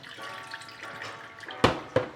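Rice being washed in water running from a faucet in a sink, a soft steady trickle topped by two sharp splashes or clatters near the end.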